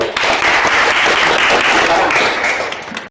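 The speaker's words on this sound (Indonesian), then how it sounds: "Tepuk tangan dulu." A classroom of students applauding after a group presentation in a school lesson on separating mixtures, a dense, steady burst of clapping lasting about three seconds before cutting off abruptly.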